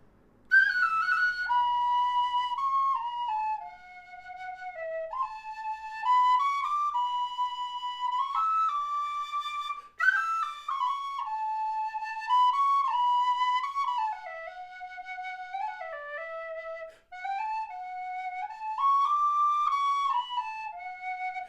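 A clear, high D tin whistle plays the slow, lilting folk melody "If I Was a Blackbird" solo, with sustained notes and ornamented turns, pausing briefly between phrases.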